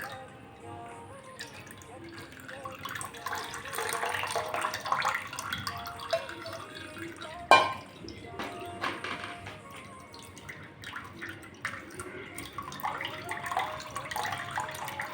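Tamarind drink being filtered and poured, a soft continuous trickle of liquid with faint drips and a brief clink midway, under a person talking.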